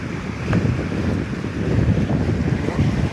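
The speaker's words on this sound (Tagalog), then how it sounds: "Hangin." Steady, blustery wind roars across the whole stretch, with low rumbling gusts buffeting the microphone and a faint watery wash underneath.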